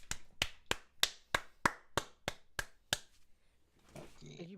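A short burst of about ten sharp hand claps, close and loud, spaced evenly at a steady beat, followed by a brief murmur of voices and laughter at a tabletop game session.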